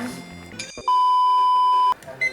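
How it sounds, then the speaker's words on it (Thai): A kitchen timer goes off while spaghetti cooks for a tomato and minced pork sauce. It gives one loud, sustained beep of about a second, then a pair of short beeps, with kitchen clatter and voices around it. "ตั้งเวลา 2 นาที 2 นาทีนะครับ ตั้งเวลาไว้"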